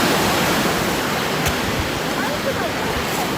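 Waves at Pandawa Beach, Bali, a steady loud broadband wash of surf with no distinct breaks, filling the scene close by.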